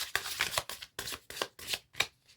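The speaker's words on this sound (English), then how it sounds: "Let me give this one more shuffle." Tarot cards being shuffled by hand in a quiet room, a run of crisp riffling bursts in a steady rhythm, each rising and breaking off, close and clear with no talking.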